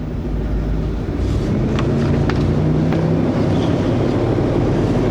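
An RV engine or generator revved to charge the RV batteries gives a steady, loud low rumble that holds through the whole stretch, with wind buffeting layered over it.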